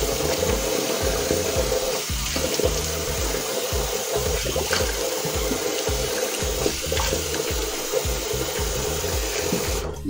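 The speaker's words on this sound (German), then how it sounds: "Ich wasche mein Gesicht mit kaltem Wasser ab" Running tap water splashes steadily into a sink, with irregular splashes and slurps as hands scoop cold water up to wash a face, close by and continuous.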